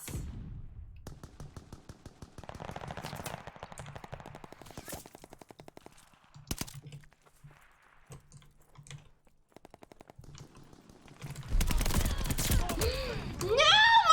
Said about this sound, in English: I start getting paranoid when I hear all these gunshots.